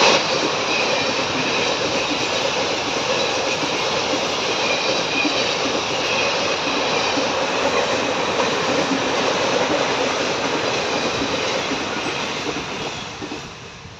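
A train rolls past a village railway crossing in a long, loud, steady roar of wheels and carriages that holds for many seconds before fading away near the end, with no voices.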